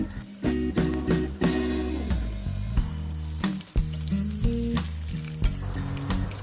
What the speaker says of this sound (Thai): พอน้ำมันร้อนแล้วเราเบาเป็นไฟกลางนะครับ จากนั้นเรานำหมูลงไปทอดได้เลยครับ